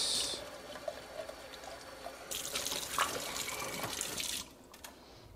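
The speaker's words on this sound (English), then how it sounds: "Just gonna do one more rinse." Running tap water splashing into a blender jar being rinsed, steady and close, swelling louder midway as it fills and sloshes, then easing off near the end.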